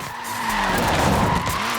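Tires squeal in a long continuous skid as a short-wheelbase, front-wheel-drive Mini slides in Forza Horizon 4, with engine drone underneath, steady and close throughout.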